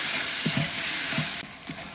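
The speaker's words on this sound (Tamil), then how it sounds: "இப்போ தக்காளி 400 கிராம். தக்காளி நல்லா வதங்கட்டும்." Tomatoes, 400 grams, sauté in a pan for a village-style mutton noodle biryani, a loud steady sizzle close up with a few soft stirring scrapes through it.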